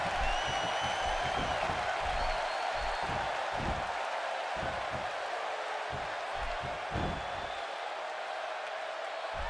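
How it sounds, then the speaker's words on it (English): Arena crowd noise from a WWE 2K16 SmackDown event, a steady broad roar of applause and cheering running the whole time with scattered low thumps beneath. "Another electric crowd on hand here for SmackDown"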